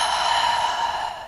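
One long, breathy exhale from a person during a grounding breathing exercise, close and fairly loud, steady for about a second before fading out.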